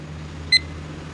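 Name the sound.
phone meditation timer starting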